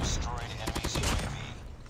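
Rapid gunfire in a first-person shooter video game, with dense overlapping shots and bursts over a loud battle din, and a voice briefly mixed in.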